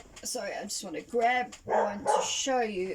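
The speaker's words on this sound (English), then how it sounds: "Please excuse my dogs." Dogs barking and yipping indoors, short repeated barks mixed with whimpering and heard under and between a woman's speech.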